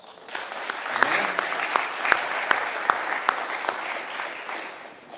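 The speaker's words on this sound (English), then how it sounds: "I think he probably deserves a round of applause" Audience applause fills a talk venue, a steady wash of clapping with a few distinct sharp claps punctuating it, swelling and then tapering off.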